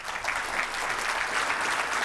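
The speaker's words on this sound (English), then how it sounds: "Please give Oliver a round of applause." Conference audience applause after a talk, an even wash of many hands clapping that stays steady and fairly close, with no speech over it.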